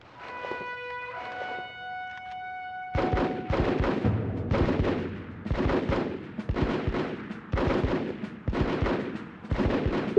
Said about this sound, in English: Got some hostiles shooting at us.